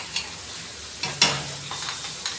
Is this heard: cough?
no